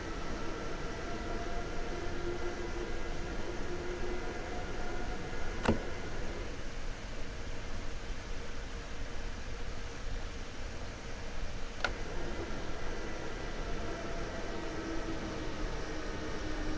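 A tilted APT train runs in the Train Sim World 3 game with a steady rolling rumble and hiss throughout, plus two sharp clicks along the way and no talking.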